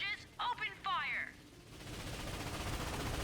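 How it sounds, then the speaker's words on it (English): A ship's machine gun in the Ratchet and Clank PS4 game fires a steady, rapid rattle that builds in after a short stretch of speech, continuing as a dense noisy burst at moderate level. "I'm using my machine gun right now."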